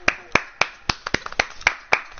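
About ten sharp hand claps in a loose, slightly uneven rhythm, close and crisp, with a couple of quicker double claps in the middle.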